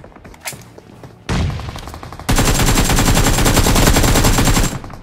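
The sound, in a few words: gunfire in a battle royale video game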